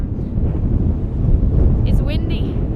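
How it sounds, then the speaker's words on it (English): Strong gusts buffet an outdoor microphone beside a truck and trailer, a deep continuous rumbling roar with a brief voice near the end. "It's windy. We're gonna definitely find out how good my mic works in the wind today."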